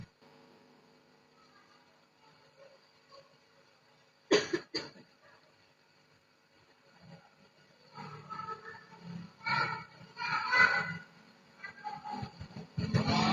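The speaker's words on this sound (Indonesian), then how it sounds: "Saya lagi batuk-batuk sebentar ya," A person coughing several times during a Qur'an study session in a mosque, with sharp bursts at first and then a longer stretch of rough coughing and throat noise, fairly close and loud against a quiet room.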